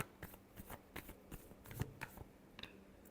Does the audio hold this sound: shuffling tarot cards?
yes